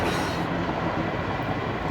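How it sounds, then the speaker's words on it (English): Tail end of a Florida East Coast freight train hauled by EMD locomotives rolling past a crossing, a steady, fairly loud rumble of wagons and wheels on rails. "the last bit of the train rolled through the"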